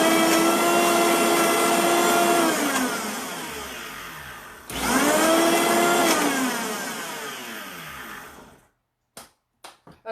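Vitamix blender blending apples, a loud close motor whine that slowly drops in pitch, cuts off briefly, surges again and winds down, followed by a few sharp knocks.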